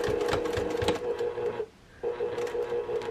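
A sewing machine stitches a vinyl project bag through thick layers, humming steadily up close, pausing briefly midway with the needle down, then resuming its even whir.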